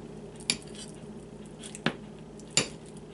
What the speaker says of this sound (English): take a fork and we're going to mash the avocado